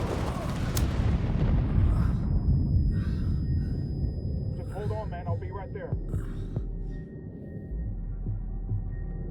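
A C4 charge detonates in the tactical shooter Ghost Recon Wildlands, with a heavy, close blast rumbling and slowly decaying, followed by quieter ambient hum and some voices.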